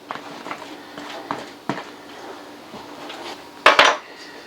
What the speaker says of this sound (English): So we'll put our peppers and onions in.